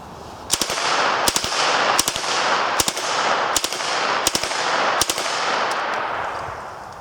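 A Thompson submachine gun fitted with a .22 conversion kit fires a series of short, sharp bursts outdoors, each burst a quick cluster of cracks, loud and close, with ringing echo between them.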